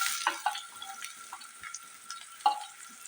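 Finely chopped onion fries in hot mustard oil for a breakfast dish, a steady bright sizzle and hiss with occasional soft crackles and stirring bumps, close and fairly loud.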